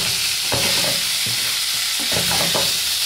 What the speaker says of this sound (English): Mix our boiled potatoes in this very simple recipe.